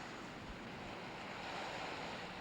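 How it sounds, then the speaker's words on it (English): North Sea waves wash ashore in a constant rolling roar, with wind buffeting the microphone and no voices. "all I hear is the washing of the waves around me"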